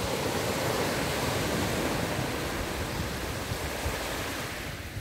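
Ocean surf at Bayswaters Beach rushes in as a steady, broad wash of wave noise, loud and continuous throughout, with slight wind buffeting and no voices.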